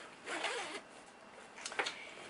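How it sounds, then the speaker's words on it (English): A zipper on a bridal gown is drawn up in a quiet room: one long smooth zip, then a few short quick tugs, close and soft. "what I'm going to do now is I'm going to zip the zipper back up"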